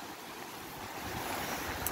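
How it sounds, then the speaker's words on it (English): Strong wind rushes past, a broad roaring hiss that swells and buffets the microphone, with no voices. "all the wind's pushing me"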